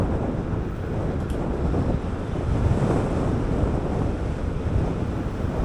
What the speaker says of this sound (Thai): ลมแรงใช้ได้ครับ เราขี่ย้อนลมนะครับ